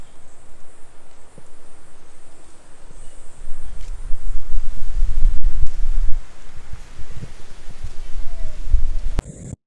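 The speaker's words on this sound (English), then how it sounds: "it's such a weird island, so hot and so windy at the same time" Strong wind roars across a hot Bali island, a rough low buffeting that swells and gusts through the middle before dropping off abruptly, with faint rustling and no clear talk.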